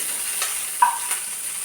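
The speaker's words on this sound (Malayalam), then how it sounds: "നമ്മൾ അരിഞ്ഞു വെച്ച ഇഞ്ചിയും പച്ചമുളകും കൂടെ ഇട്ട് വഴറ്റി" Ginger and green chillies being sautéed with shallots and red chillies for upma, giving a steady soft sizzle with one brief stirring scrape, close by and without speech.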